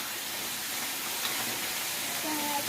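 Bean sprouts stir-fry in a pan, giving a steady, dense sizzling hiss that runs throughout, close and fairly loud.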